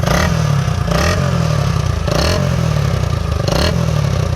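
A 1971 Honda SL125 motorcycle idles with a loud, throaty exhaust burble, the engine briefly blipped a few times, close to the listener.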